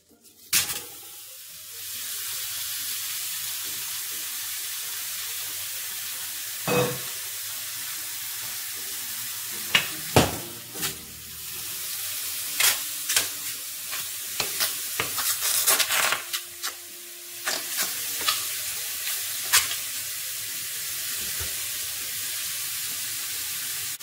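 Well-dried steak hits a hot AMC pot and sizzles steadily, a continuous close hiss broken by occasional sharp metallic clinks and clatter of utensils against the pot.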